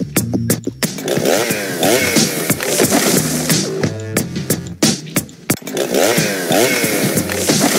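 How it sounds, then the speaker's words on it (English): A 70cc chainsaw in the video game Stick RPG 2 runs loud and close, its engine revving up and down in repeated bursts with a few sharp clanks between them. "70cc chainsaw."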